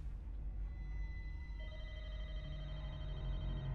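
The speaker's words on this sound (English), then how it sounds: "The phone's ringing." A phone rings in The Walking Dead: Michonne, a faint, steady electronic tone held over a low background hum with no voices.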